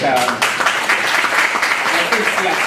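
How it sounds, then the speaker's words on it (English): An audience at a media freedom forum in Malaysia applauds young journalists, with brief, full-room clapping that holds steady and a voice underneath. "deserve an applause."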